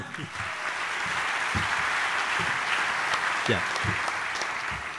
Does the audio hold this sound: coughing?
no